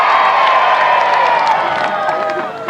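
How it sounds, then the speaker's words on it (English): A large outdoor crowd at a 1992 Napoleonic battle re-enactment staged by the Napoleonic Association cheers for the British side, loud sustained cheering and shouting with whoops and scattered clapping that slowly fades. "What about the British? Cheer for the British!"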